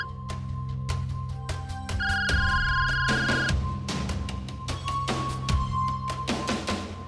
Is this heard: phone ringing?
yes